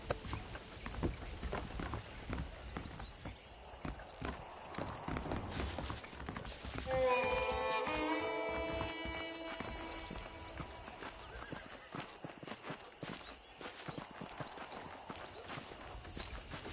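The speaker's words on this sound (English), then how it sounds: "Okay, let's see if you can still ride a horse." Horse hooves clip-clop steadily in Red Dead Redemption as a ridden horse walks, with a whinny partway through and game music underneath; the hoofbeats are fairly close and moderately loud.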